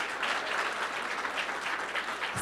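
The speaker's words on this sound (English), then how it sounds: "Can we have a huge round of applause for everybody who did reparations today?" Applause from the audience at a session on reparations, sustained dense clapping from a full room, steady and fairly loud with slight swells, with no voices over it.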